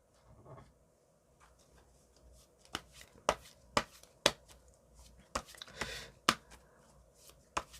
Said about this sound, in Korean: 한번 좋은 카드 하나씩 뽑아보도록 할게요